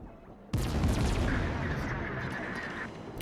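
A warship in World of Warships fires a salvo of armor-piercing shells at the cruiser Smolensk: a sudden heavy boom, then a long rumbling roll and a faint whistling tone as the shells fly.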